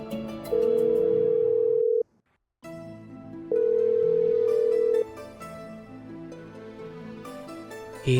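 Ringback tone on an unanswered phone call: two long, steady electronic tones separated by a silent pause, heard over soft background music.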